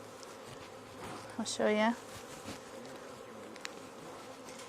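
Honey bees hum in a low, constant buzz around a newly split hive as nurse bees are shaken off an egg-filled frame, while a person speaks briefly partway through.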